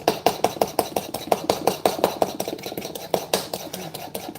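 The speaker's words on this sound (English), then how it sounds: "So we're going to have to beat the sugar and egg yolks together for a bit." A fork rapidly beats sugar and egg yolks in a bowl for pistachio ice cream, giving a steady, fast run of close clicking taps against the bowl with no voices.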